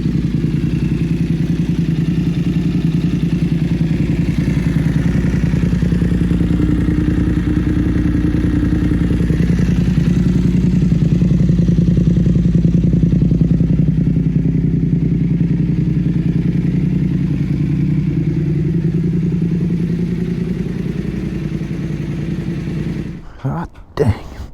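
A 2022 BMW F900R motorcycle engine runs steadily and loudly at close range, a constant droning rumble that fades near the end with a few clunks.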